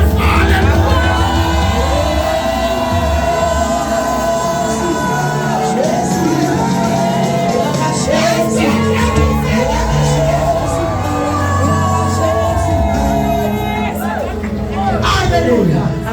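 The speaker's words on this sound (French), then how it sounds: "Est-ce qu'on peut crier fort?" A congregation at a Pentecost church service shouts loudly together, a dense, sustained roar of raised voices, whoops and cries that keeps going at full volume throughout.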